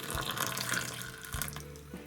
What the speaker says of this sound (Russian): Вот из чайника я заливаю горячую воду.